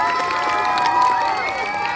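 Applause and cheering from an audience for second-grade children after their school drama at an elementary school, a steady dense clatter of clapping with crowd voices mixed in throughout.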